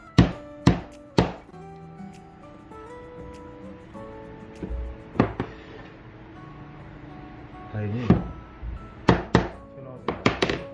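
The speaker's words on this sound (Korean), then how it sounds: "근데 여러분들 망치질 할 때 조심해야 될 게, 막 두드리다 보면은 못은 들어가는데" Hammer blows driving nails into wood while assembling a small wooden tool box, sharp irregular impacts in scattered clusters with a voice talking between them.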